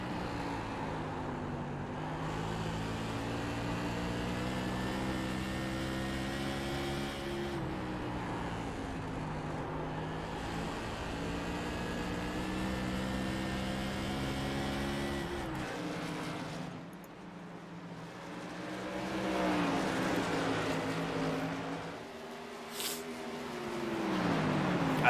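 A race car engine in a sim racing game holds a steady, droning rev for a long stretch, then shifts pitch and surges louder with some intermittent rasping near the end, continuous and without talk.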